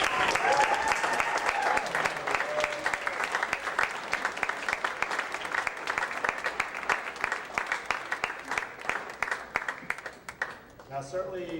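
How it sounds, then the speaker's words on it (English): A crowd at a student-athlete signing ceremony breaks into sustained, dense applause. It holds steady and loud for about ten seconds, then thins out to scattered claps near the end. "let's give him a big round of applause"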